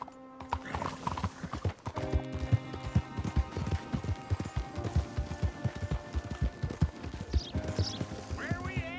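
Horse hooves clip-clop in a steady riding rhythm in the video game Red Dead Redemption 2, close and prominent, with a horse whinny near the end and other game sounds layered underneath.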